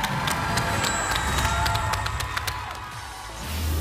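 Studio audience on a Spanish-language game show clapping and cheering for Dominican contestants, a steady wash of applause with scattered sharp claps at moderate volume that tapers off toward the end.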